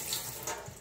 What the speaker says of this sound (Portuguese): E a minha torneira não tá colaborando.